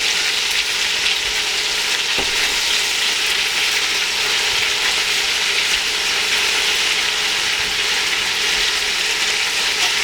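Lamb and onions sear loudly in a pan for ten seconds, a thick, unbroken frying roar with one faint clack partway through.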